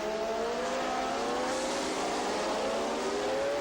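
A pack of 1988 Formula One cars, turbocharged and normally aspirated, charges toward the Tosa first corner, engines screaming at high revs in overlapping rising tones, loud and sustained with no talk.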